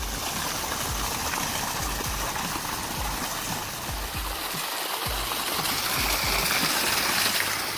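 Water gushing out through a hole in a hollow tree trunk in Montenegro after heavy rain, a loud, constant rushing stream with splashing, steady and close for the whole stretch.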